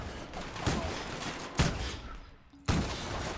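Loud gunfire from a weapon in the video game The Outer Worlds, sharp bursts over a busy background of rumble and noise, with a short lull before the shooting picks up again.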